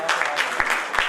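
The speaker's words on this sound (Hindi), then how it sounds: "विकास और अवनीश जी, तालियों के साथ स्वागत करें।" A short burst of audience applause fills a theatre after a stage drama, with dense, lively clapping from the crowd welcoming people onto the stage.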